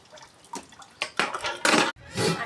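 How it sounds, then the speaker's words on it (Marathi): Dishes being washed in a home kitchen: scattered clinks, scrapes and splashes of water arrive in irregular bursts, fairly quiet and close, with brief pauses between clatters and no voices. "जाऊया किचनमध्ये आता भांडी धुया सगळी"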